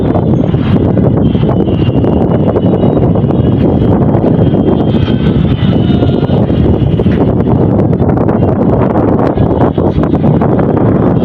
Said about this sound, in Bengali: প্রচন্ড বাতাস অনেক উপরে।